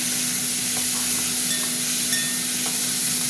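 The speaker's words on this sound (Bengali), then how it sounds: "এবার চিংড়ি মাছগুলো দিয়ে দিচ্ছি" Prawns hit hot oil in a pan while making a prawn curry with pointed gourd and potato, and a steady close sizzle and hiss follows, continuous with faint crackles.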